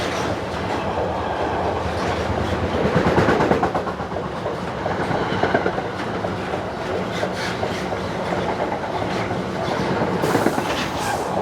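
A freight train of empty car carriers hauled by an electric locomotive rolls past close by in the evening with steady rumbling and rhythmic clickety-clack of wheels over rail joints, swelling briefly as it nears.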